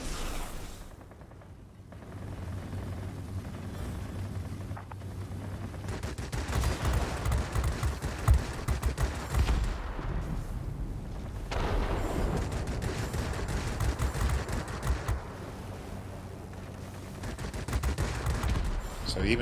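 Aircraft machine guns rattle in World of Warplanes during a Japanese Navy fighter dogfight, rapid bursts of gunfire in several volleys with short pauses between them, loud over a constant engine roar.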